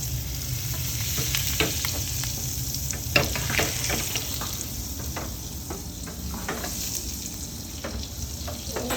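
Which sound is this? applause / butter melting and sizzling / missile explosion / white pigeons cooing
butter melting and sizzling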